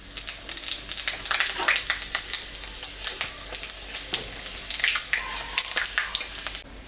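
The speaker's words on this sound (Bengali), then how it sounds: "তেলের উপরে আর একটু তেল আমি দিব। লঙ্কা আর পাঁচফোড়ন সম্বরা দিব।" Chili and panch phoron spices are tempered in hot oil, sizzling and spitting with a dense crackle of pops throughout, close and steady, while preparing a curry of rohu fish head with Malabar spinach.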